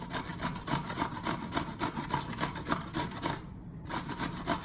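A cucumber rubbed back and forth across a grater while preparing tuna salad, giving a steady run of close, quick rasping strokes with a brief pause near the end.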